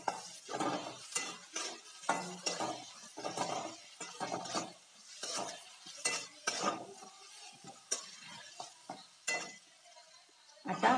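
A spoon scrapes and clinks through vada pav filling in a pan as turmeric, chaat masala and garam masala are mixed in, giving repeated short, close stirring strokes with light metallic taps and a soft sizzle underneath.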